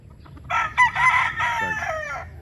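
A Jogwood gamecock rooster, a two-time winning breeder, lets out one full, close crow with a few rough clucks folded into the call, clear over a quiet background.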